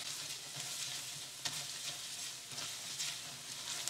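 Coconut strips cooking in thickening sugar syrup in a non-stick pan make a steady, fairly quiet bubbling sizzle with light spatters and occasional stirring scrapes, and nobody talks.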